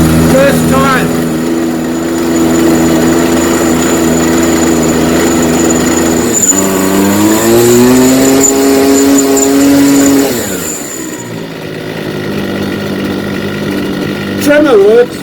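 Husqvarna 129L string trimmer engine running steadily after a first-pull start, a loud close two-stroke drone that dips and rises in pitch partway through, with someone talking over it.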